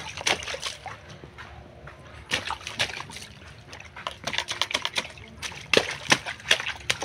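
Water splashes and sloshes in short irregular bursts as someone bathes, with splatters and drips that are close and moderately loud, scattered over a quiet background.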